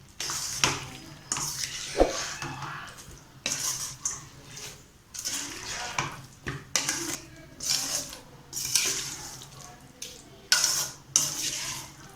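Chicken drumstick pieces stirred through tomato gravy in a pan, with repeated metal utensil scrapes and clinks against the pan over a soft sizzle, steady and close, no talking.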